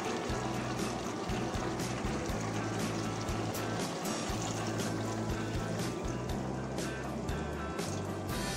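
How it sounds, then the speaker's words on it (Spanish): Water poured over pork ribs in a cooking pot for a dish of pork ribs with potatoes and artichokes, a steady close splashing pour with low bubbling underneath, continuous throughout. "Y ahora vamos a cubrirlo con agua."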